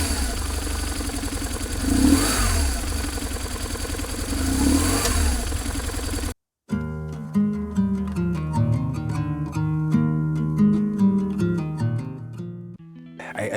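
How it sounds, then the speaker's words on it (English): A BMW R1150GSA motorcycle engine with a strange noise blamed on the cam chain tensioner runs close and loud, its pulsing note rising and falling for several seconds before music takes over. "this is my 1150GS. And it has developed an interesting, or more likely a strange"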